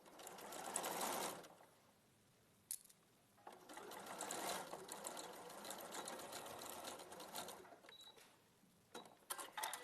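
A sewing machine stitching gathered fabric runs in close, steady bursts with brief pauses between runs, plus light mechanical clicks, with no talking.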